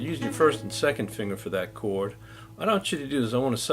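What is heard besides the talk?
No everyday noise stands out behind the speech.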